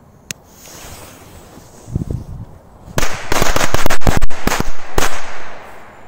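Big firecrackers go off outdoors in a loud rapid burst, several sharp cracks piling into a rattling crackle of blasts lasting a few seconds, after one small pop and some quieter rustling.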